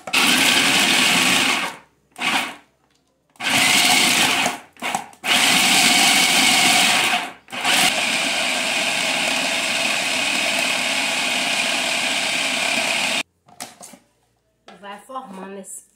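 A blender whirs loudly in repeated bursts, stopping and restarting several times as frozen fruit is blended into ice cream, then a longer steady run before it cuts off, followed by someone talking.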